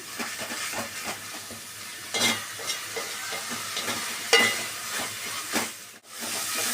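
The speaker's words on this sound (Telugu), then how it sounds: "ఇప్పుడు స్టవ్ హై ఫ్లేమ్లో పెట్టుకొని దీన్ని బాగా పచ్చివాసన ఎంతవరకు వేయించండి దీన్ని అల్లం పేస్ట్ని" Ginger paste frying on a high flame, a steady sizzle broken by repeated scraping stirs and a few louder clatters, heard up close with no talking.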